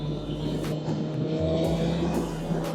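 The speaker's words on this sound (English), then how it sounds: "First ride, baby, on the brand new 2024 S1K." A brand-new 2024 BMW S1000RR sport motorcycle on its first ride gives a loud, close engine drone that swells and revs steadily throughout.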